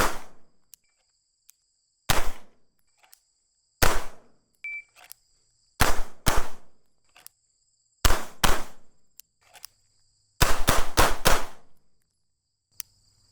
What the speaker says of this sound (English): So we'll start with just some simple single shots out of the holster.